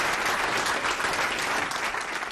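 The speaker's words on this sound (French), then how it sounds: "C'est un tonnerre d'applaudissements qu'a reçu le couple présidentiel samedi lors de son entrée dans cette salle" Thunderous applause fills a multipurpose hall as a presidential couple enters, a dense, loud, continuous roar of many hands with no gaps.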